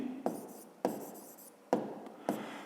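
Pen strokes scratch across paper in four short bursts, each sharp at the start and then fading, close and quiet with nothing else heard.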